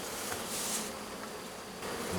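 Honeybees buzz around the entrance of a 14-frame Spanish Layens hive, a continuous close drone that swells and fades as insects pass near.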